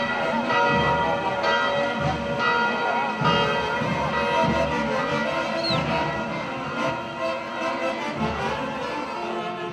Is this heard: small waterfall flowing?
no